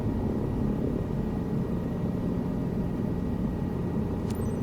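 A helicopter flies on a sightseeing trip over Montreal, its steady, loud rotor and engine drone filling the cabin without a break, with one faint high click near the end.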